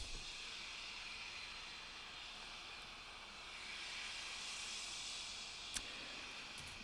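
A flute blown from the wrong end gives a steady breathy hiss with a slowly sweeping, whooshing tone, like air blown through a tube, holding for several seconds with one brief sharp click near the end.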